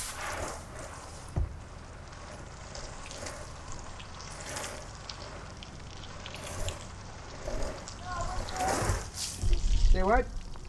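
Water poured over the vent of a propane stove installed in a cargo trailer camper, a steady trickling and splashing wash that swells toward the end, with faint voices in the background.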